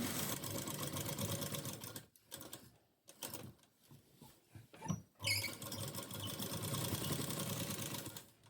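A sewing machine stitches a design onto a blouse sleeve piece in rapid mechanical bursts, pausing and restarting in the middle before running steadily again.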